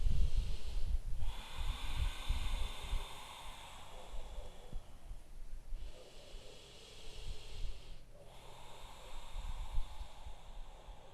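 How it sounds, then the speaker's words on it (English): Slow, hissing ujjayi breaths drawn in and out through the nose with a constricted throat during a yoga flow outdoors in a Costa Rican jungle, heard up close as long airy inhales and exhales over a low rumbling background. "Breath is flowing through your nose. Slight constriction through your throat."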